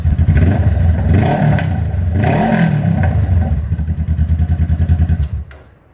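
A 2018 Honda CBR500R motorcycle engine running with its muffler removed sounds loud, raw and close: a throaty idle rises into one brief rev, settles into rapid chugging pulses, then cuts off abruptly just before the end, with no talking.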